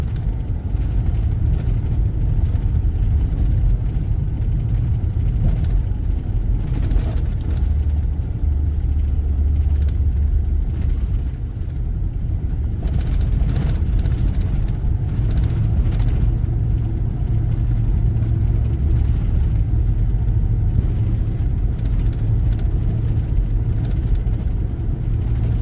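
A car engine rumbles and revs steadily while the vehicle plows through deep, loose sand at Sansavilla Sand Bluffs in Altamaha Regional Park, a continuous loud low drone with shifting throttle and no talking.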